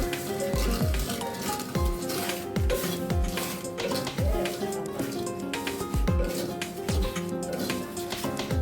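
Bay leaves, cardamom pods and cinnamon pieces fry gently on low heat for tandoori chai, with a soft sizzle under repeated rhythmic scraping and clinking of a spatula against the pan, fairly quiet and close.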